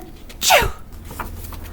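A single sharp sneeze bursts out close and loud, a quick rising 'choo' lasting under half a second against quiet background noise.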